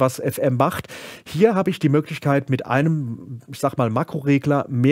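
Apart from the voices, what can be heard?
No distinct noise like a dog, phone or traffic.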